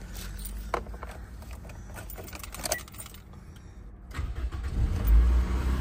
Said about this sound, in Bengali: এই যে ইঞ্জিন সাউন্ড